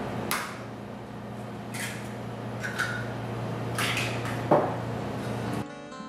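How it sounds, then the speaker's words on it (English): Wet muffin batter of applesauce, vanilla extract and egg whisked in a bowl, a few separate clinking scrapes of the whisk against the bowl over a low steady hum, close and fairly quiet. "Thoroughly whisk the wet ingredients together."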